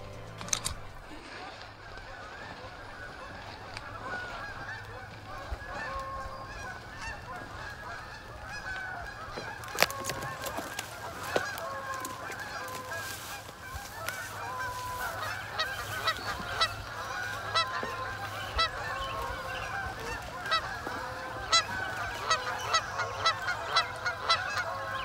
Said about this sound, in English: There's probably about 200 Canadian geese out on this little lake.